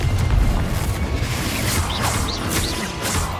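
Repeated Confringo blast-spell explosions in Hogwarts Legacy, deep booming impacts rolling through a dense, continuous low rumble with faint higher whooshes overhead, steady and loud throughout.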